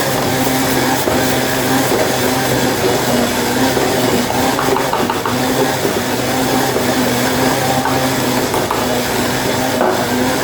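A stand mixer kneads Sicilian durum wheat bread dough as salt is worked in, its motor humming loudly and steadily, with faint knocks and rattles from the bowl and no talking.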